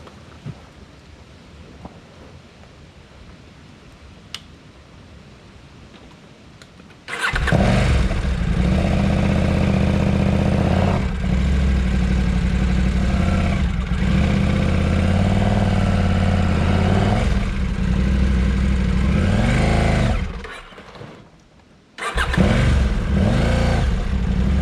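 KTM 890 Adventure R motorcycle engine idling quietly, then revving hard and sustained as the rider tries to climb a hill, dropping briefly before roaring loudly again; near and loud, no talk.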